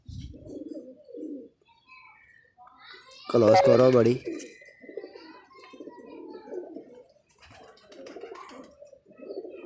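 Paired pigeons kept by a hobbyist give a loud burst of cooing near the middle, with people talking before and after it.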